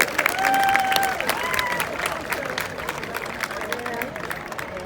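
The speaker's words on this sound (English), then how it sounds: "let's give a round of applause for Brandon Reel." An audience at a high school hall of fame induction applauds steadily, a dense patter of clapping with some cheering and crowd murmur, gradually fading a little.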